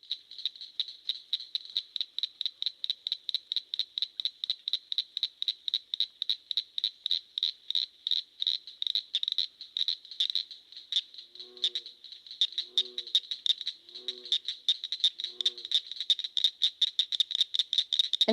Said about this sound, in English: And they sound like crickets. That's where they get that cricket frog name.